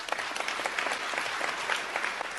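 Applause at a gathering of Israelis: a dense, steady patter of many clapping hands, moderately loud and continuous, with no speech over it.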